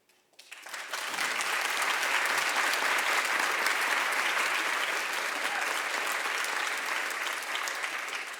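Loud, sustained applause from a large audience at a political discussion event, rising quickly and continuing steadily without pause.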